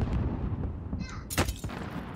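Enemy gunfire in the video game Call of Duty Warzone: a sharp burst of shots cracks out partway through, over a steady bed of in-game background noise.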